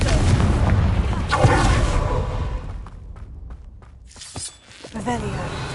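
A Confringo fire-spell blast in Hogwarts Legacy lands as a loud booming burst near the start. Sharper crackling impacts and debris follow amid game sounds and a voice.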